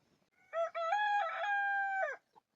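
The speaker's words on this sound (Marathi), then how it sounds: "तिकडच्या कोंबड्याला कोंबडा इशारा देतोय" A rooster gives one full, clear crow at moderate distance. The call opens with a short note, then a long sustained tone, and ends with a faint cluck.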